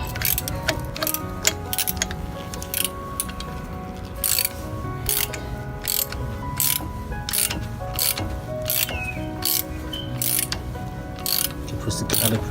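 Ratcheting clicks from a cheap handheld brake caliper compression tool as it is turned to squeeze a front disc brake caliper piston, a steady run of rapid mechanical clicks close up with no talk.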